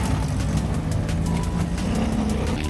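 Road traffic of cars speeding past during a rainy outing at a kitesurfing freestyle world championship in Cumbuco, heard as a steady, loud, continuous rushing roar with no talk.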